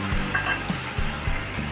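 Drumsticks tossed into onions frying in a pan for hotel-style South Indian sambar, giving a steady close sizzle with a few soft knocks and stirring scrapes, no voices.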